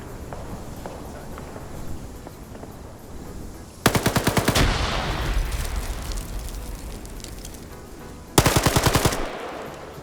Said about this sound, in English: Getting shot from north.